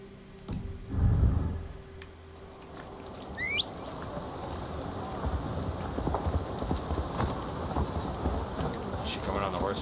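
In Assassin's Creed Valhalla, horse hooves clip-clop in a steady rhythmic trot with a rustling outdoor ambience, and a voice talks briefly near the start.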